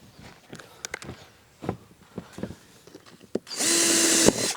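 A power drill drives a self-drilling screw into a tent anchor hole, a single loud sustained whir near the end, preceded by scattered knocks and handling noises.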